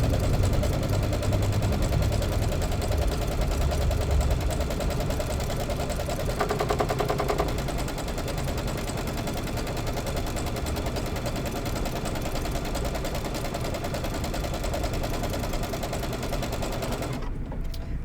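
A sewing machine stitches a quilt placement line in wash-away thread, a dense, continuous mechanical whir and rapid needle rattle that holds steady for most of the stretch and then stops abruptly near the end, close and alone.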